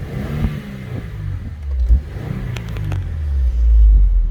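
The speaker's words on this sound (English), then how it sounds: "We'll just give that a little bit of a rev for you." Stock-exhaust engine of a 2015 Subaru WRX revved from idle, a low rumble rising in a couple of short swells with a deeper, louder rev at the end, heard alone.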